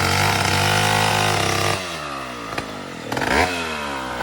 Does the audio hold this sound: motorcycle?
yes